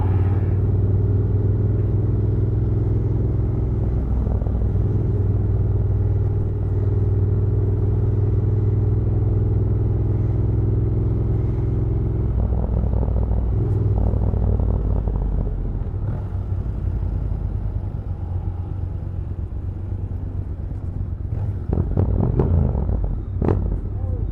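Steady engine rumble from a group ride on a Triumph Thruxton RS 1200 cafe racer, with cars passing between the riding motorcycles. Constant road and motor drone, some clatter near the end, and voices talking over it.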